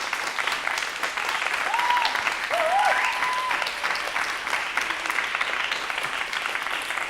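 An audience applauding at a live poetry performance, steady dense clapping from a crowd that swells slightly midway and holds on, with a faint voice or two briefly audible within it.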